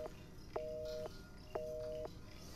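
Telephone line tone in the survival horror game Resident Evil 7, a faint steady electronic tone repeating in evenly spaced beeps of about half a second each, with no voices.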